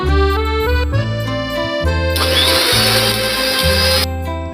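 Kitchen blender whirring as oil is added to homemade mayonnaise, a loud motor hum with a brighter, harsher churning stretch in the middle before settling back.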